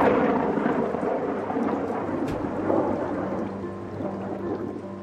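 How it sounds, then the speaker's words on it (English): Steady rain pours over a Roman bath building under construction, with a low rolling thunder rumble running beneath the dense, continuous patter. "Rain not only slows down Teoman's schedule, it also soaks an already wet building."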